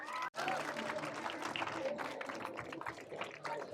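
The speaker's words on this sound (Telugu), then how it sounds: "Big round of applause." A crowd in Rajahmundry gives a big round of applause, a faint, continuous wash of many hands clapping, blended with murmuring voices throughout.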